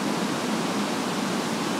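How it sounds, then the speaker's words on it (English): Waterfall in the Temagami wilderness, a loud, steady, close broadband rush of falling water that holds constant without a break, with no voices over it. "Just sitting here at the waterfall here with Miss Lou"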